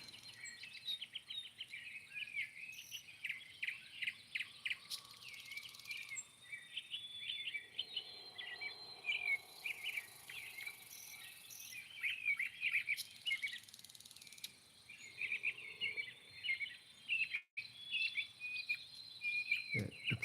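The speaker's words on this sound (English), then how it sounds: "some of the birds they be up all night" Night-time outdoor chorus of insects, likely crickets, with birds calling through it: dense continuous trilling and chirps, fairly close and steady, with no talk.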